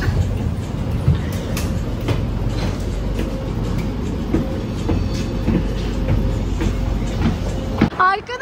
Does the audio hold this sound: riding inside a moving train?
yes